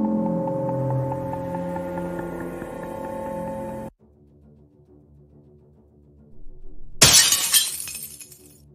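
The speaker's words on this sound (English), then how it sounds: "I have to break this glass." A drinking glass shatters loudly and close by after a short stretch of near-silence, following a musical passage, with the bright crash of breaking pieces trailing off.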